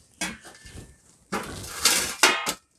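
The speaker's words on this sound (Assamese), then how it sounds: "মই কেৰাহীটো নমাইছোঁ, এইটো কেৰাহীটো নমালোঁ মই" A kadai (wok) is lifted off the stove after cooking shewali flower fritters, giving a few close metallic clanks and scrapes of pan against burner in short bursts, no talking.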